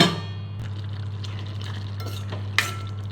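Curry being stirred in a pan over a medium flame, a steady low sizzle with soft scraping and a clink of the spoon on the metal near the end.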